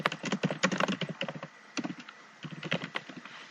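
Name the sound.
typing a comment on a computer keyboard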